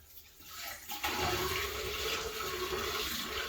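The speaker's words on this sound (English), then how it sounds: "So I'm going to dump this water, not all over in here, but around the trap." Water from a 2.5-gallon bucket is poured around a shower drain trap, a steady rushing gush that surges louder after the first second and keeps pouring without a break.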